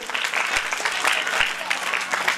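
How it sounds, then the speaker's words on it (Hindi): A crowd applauding, dense steady clapping that fills the whole moment, with a couple of faint thumps underneath. "इनके लिए जोरदार तालियां बजा करके इनका स्वागत करें।"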